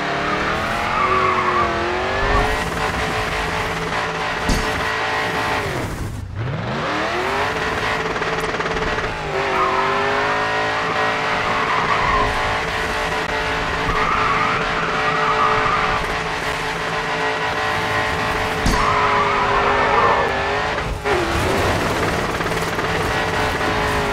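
Tires squeal continuously as a race car drifts through turns in the GRID 2 video game, its engine droning loud and close; the squeal rises and falls and dips briefly before sliding on.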